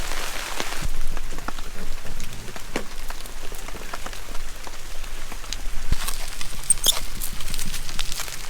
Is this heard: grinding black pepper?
no